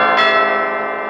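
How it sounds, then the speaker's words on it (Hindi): A single bell rings out during a devotional Hindi storytelling performance of the butter-stealing tale, its bright sustained tone decaying steadily across the second with no talk over it. "और जैसे ही घंटी बजी,"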